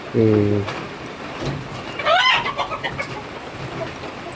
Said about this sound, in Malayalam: കോഴിയാണ് എന്തൊരു ബഹളമാ